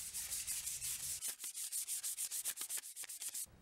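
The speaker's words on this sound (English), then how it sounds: "Then I planed and sanded the sharp corners." Wooden corners of a child's play tent sanded by hand, a steady back-and-forth rasping in quick regular strokes, close and loud with no voices.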